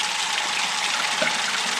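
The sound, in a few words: cold water running from kitchen tap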